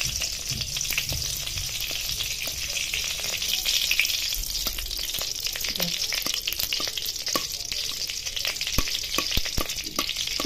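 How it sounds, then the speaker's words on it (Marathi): Grated coconut roasts in ghee in a pan, a steady close sizzle with frequent scraping clicks of a spoon as it is stirred continuously, no voices. "तूप तळलं का लगेच हा पीस टाकून द्यायचा खोबऱ्याचा आणि हा पूर्ण ड्राय करून घ्यायचा एकसारखं हलवत राहायचं"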